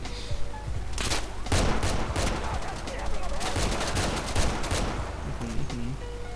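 Rapid bursts of gunfire in the video game Insurgency during a co-op match, dense overlapping automatic shots and fusillades throughout, with players talking faintly over the action.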